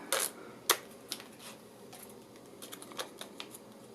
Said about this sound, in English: So go ahead and tear that off.